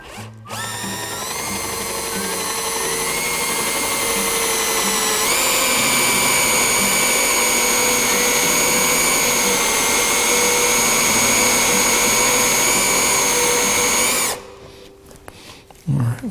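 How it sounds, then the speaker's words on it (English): A hand-held power drill bores a hole with a brad-point Forstner bit, a loud steady whine with strong tonal harmonics that ramps up, holds for about fourteen seconds, then stops abruptly. "I'm going to drill it by hand."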